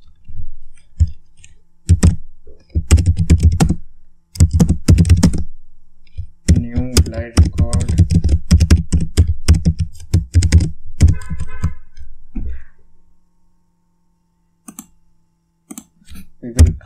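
Computer keyboard typing in bursts of rapid clicks and clacks, close and clear, with pauses between runs while a script is written in ServiceNow; a voice talks intermittently.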